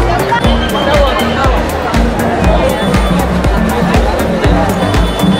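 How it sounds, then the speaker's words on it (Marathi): Packed street crowd at a Ganpati Aagman procession in Mumbai, a loud, dense hubbub of many voices with steady rhythmic drumming pounding underneath throughout. "गर्दी गर्दी गर्दी गर्दी गर्दी गर्दी गर्दी गर्दी गर्दी गर्दी"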